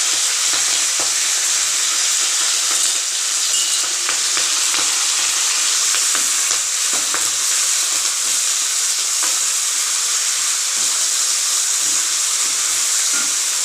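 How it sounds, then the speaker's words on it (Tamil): Chopped onion and vallarai greens sauté in a hot pan, a loud, steady frying sizzle and hiss that runs throughout with faint stirring scrapes and no talk. "இது ஒரு 2 நிமிஷத்தில் நல்லா சுருண்டு வதங்கிடும்"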